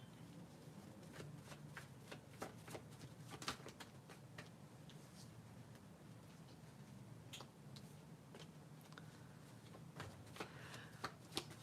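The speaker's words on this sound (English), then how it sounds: "One more shuffle." Tarot cards being shuffled by hand in a quiet room, a steady run of soft riffling flicks and light taps close by, with no talk over it.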